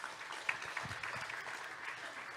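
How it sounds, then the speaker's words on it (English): Warm applause from a conference audience at a sustainability session, a dense, steady patter of many hands clapping throughout, moderately distant in a hall with no voices over it. "warm applause, please, for Mr."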